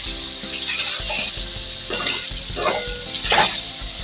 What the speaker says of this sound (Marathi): म्हणून हळूवारपणे थोडं मिक्स करायचं तेलावरती.